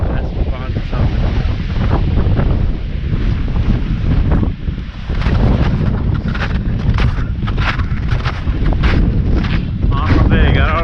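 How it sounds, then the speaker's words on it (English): Strong wind on a winter hike on Cat Mountain: loud, constant roaring gusts buffet the microphone throughout, with a brief dip before it swells again. "Yeah, this wind."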